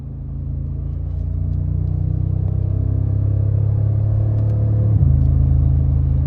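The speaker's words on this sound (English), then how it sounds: "I absolutely love the throatiness of the exhaust. It sounds so good, so exotic. I just gave it full throttle there just for fun." A Mercedes G-Class AMG G63 exhaust at full throttle gives a deep, throaty drone that swells in loudness and holds steady, with a slight shift in tone near the end.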